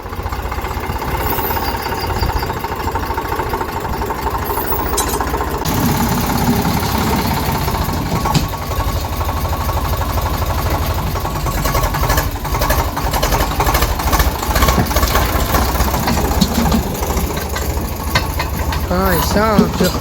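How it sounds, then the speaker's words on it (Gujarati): A tractor engine runs steadily with a loud continuous rumble, while people talk over it. "આપણે મિત્ર ટ્રેક્ટર લઈને આવ્યા છે ને"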